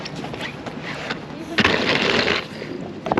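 A large suitcase rolled on its wheels over a cobblestone street in Paris, a rattling, clattering rumble with a louder, rougher burst midway before it settles back to steady chatter.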